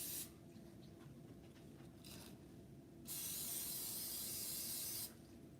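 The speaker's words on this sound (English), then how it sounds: "Again, I take some of this olive oil in the can. Spray a little" Olive oil cooking spray hisses from a can in a kitchen: a short faint spritz, then a steadier two-second spray over quiet background noise.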